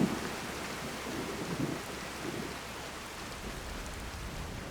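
Steady rain and distant rumbling thunder in the Skyrim video game, a continuous hiss of falling water with low, soft rolls of thunder near the start.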